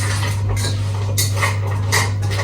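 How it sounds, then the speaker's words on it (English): A plastic spoon stirring food with cooking oil in a pan, giving soft repeated scraping and clinking strokes close by, over a constant low hum. "I'll just use my plastic spoon for the mix around."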